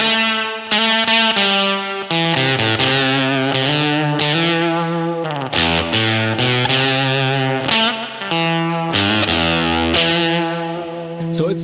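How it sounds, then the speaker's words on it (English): An electric guitar with a gated fuzz tone from a Kemper Profiler. A loud, buzzy melodic line of clipped, choppy notes cuts off abruptly between phrases, with no voices. "something like a gated fuzz sound. And I created that with the Kemper fuzz."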